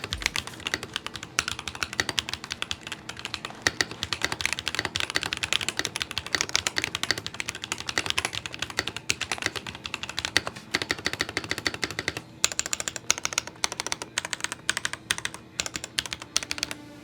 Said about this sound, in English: tactile Gen 3 switches that sound pretty nice